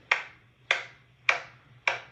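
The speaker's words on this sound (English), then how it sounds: "if I clap the rhythm" Four sharp hand claps in an even, steady rhythm, evenly spaced about half a second apart, close and crisp with short decaying tails and no talking.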